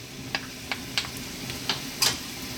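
Onion and garlic dropped into generous olive oil in a pan over medium heat for shakshouka, a quiet soft sizzle with a few light clicks and taps, no talking.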